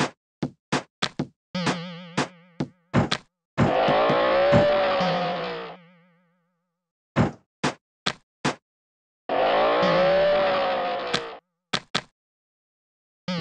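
Cartoon car driving in a Peppa Pig theme park video game: short bursts of clicks and knocks alternate with two loud sustained engine-like whooshes with a rising tone, with no talking.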